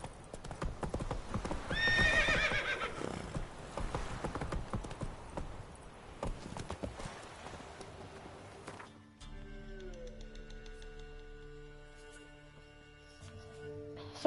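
Horse hooves clip-clop in The Witcher 3 video game, a steady run of hoofbeats with a whinny partway in, then quieter game ambience with tonal music-like sounds as the hooves fade.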